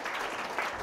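An audience at a business lecture applauds in a brief, dense burst of clapping that stays steady and fairly close.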